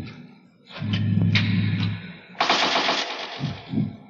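A burst of machine gun fire rattles loudly in an old dinosaur film, a rapid clattering volley over a low rumble, close and prominent.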